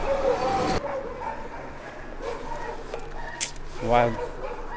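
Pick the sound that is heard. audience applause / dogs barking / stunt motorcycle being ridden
dogs barking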